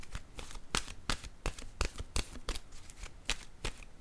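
Tarot cards being shuffled by hand, a close series of crisp riffling bursts and soft slaps in an irregular rhythm, alone without talk.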